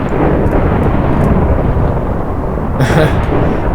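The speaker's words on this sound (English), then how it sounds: "Once a huge explosion occurs..." A huge explosion in the FTB Infinity Minecraft modpack gives a loud, continuous roaring rumble that fills the whole stretch, with a brief brighter crackle near the end.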